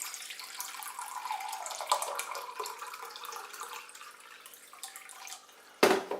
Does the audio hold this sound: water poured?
yes